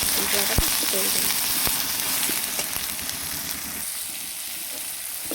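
Chili, turmeric and cumin powder masala frying in a pan, a continuous close sizzle broken by a few sharp utensil taps, with a faint voice in the background.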